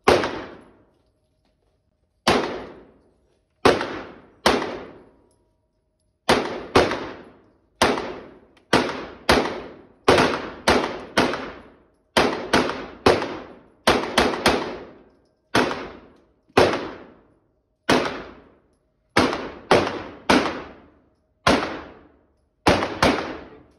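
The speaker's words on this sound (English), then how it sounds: "Like three shots right there." Single firearm shots at a shooting range ring out one at a time, sharp loud cracks with short decaying tails, irregularly spaced with some quick pairs and triples, no talk between them.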